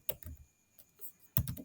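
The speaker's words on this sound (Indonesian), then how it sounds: "Ketik Ambient." Quick keystrokes on a computer keyboard as a short word is typed, a burst of close, crisp clicks, a short pause with a few scattered taps, then another tight cluster of keys.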